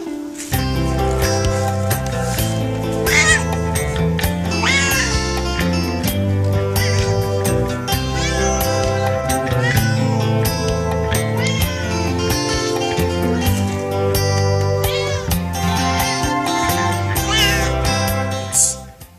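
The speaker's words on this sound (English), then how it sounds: "Just a cat going around meowing." A cat meows repeatedly in a video played back on a screen, its cries loud and close and layered over a dense, continuous background of other sound.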